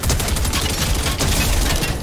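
Sustained rapid gunfire in a Fortnite match while shooting an opponent, a loud continuous barrage of shots with one brief dip midway.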